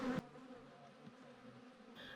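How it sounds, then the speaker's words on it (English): A low, steady hum of honey bees buzzing, fairly faint and continuous, with a brief louder noise at the start. "The bees are amazing creatures and such a vital part of our ecosystem."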